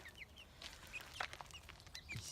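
A small group of hens, including frizzled and smooth blue birds and a silkie, cluck and chirp softly in short, scattered calls, faint and somewhat distant.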